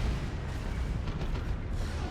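A grenade explodes in the strategy game Dawn of War 2, a deep rumbling boom that spreads into a sustained low roar amid battle noise, with no talking.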